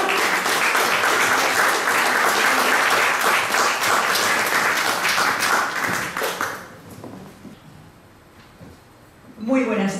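Warm audience applause for a poet at a women's day poetry recital, dense steady clapping for several seconds that fades out, followed by a voice beginning to speak.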